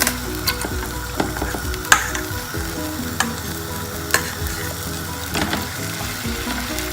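Prawns sizzle in a pan while being cooked for a biryani, with a steady frying hiss and sharp clinks and scrapes of stirring at irregular intervals.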